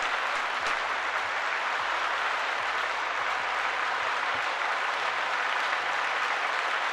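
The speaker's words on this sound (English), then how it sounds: "So let's clap it up for Cooper Rush one time." Steady, dense applause from a football crowd fills the whole stretch, loud and continuous without a break.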